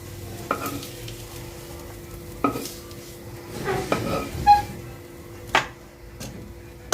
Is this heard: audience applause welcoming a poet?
no